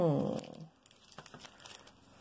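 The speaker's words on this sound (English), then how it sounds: "more crinkly plastic, sorry" Crinkly plastic packaging crackles and rustles as it is handled during unpacking, loud at first and then fading into lighter scattered crinkles, with a brief bit of speech.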